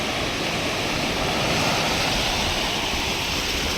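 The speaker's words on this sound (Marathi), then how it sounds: "समुद्राच्या लाटा" Steady, loud roar of sea surf at Ganpatipule washing continuously, broadband and unbroken, with no voices.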